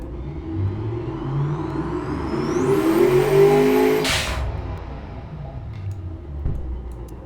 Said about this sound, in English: Mercedes engines, they've got that really nice deep rumble.